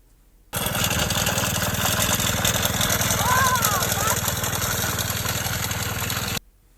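Meadow mowing machine engine runs at a steady, loud, throbbing idle for several seconds, close by, starting and stopping abruptly, with a faint voice briefly audible beneath it.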